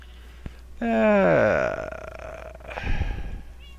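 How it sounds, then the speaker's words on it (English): A pet cat in Minecraft lets out a single drawn-out, wavering meow with a falling pitch, fairly loud and close, followed by a softer rustle of game sounds. "I've got my cat with me."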